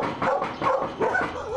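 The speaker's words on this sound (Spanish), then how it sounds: "los grupos de perros que varias veces le ladraron y la asustaron" Dogs bark in short, repeated bursts, several yelps about a third of a second apart, fairly close and loud, with no talking.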